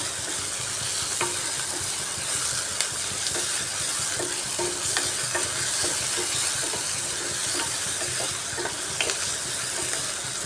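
Onions with a little salt frying in a pan for a jackfruit curry, giving a steady close sizzle with frequent scraping and stirring clicks throughout, no voices.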